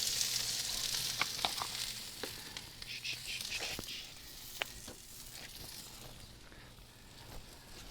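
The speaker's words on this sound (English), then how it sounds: "Drop everything right in there, let it get a good sizzle." Breakfast scramble sizzles and crackles steadily in hot oil in a wok on a Big Green Egg grill, with scattered scraping and clinking of a utensil stirring in the pan.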